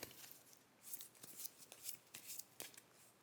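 Cards are shuffled up close in quick, crisp riffling bursts, soft and papery, repeating several times.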